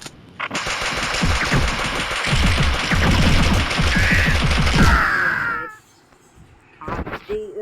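Rapid automatic gunfire rattles in dense bursts in the Mini Militia video game on a catacombs map, loud and continuous for about five seconds, then stops, followed by a few scattered game sounds.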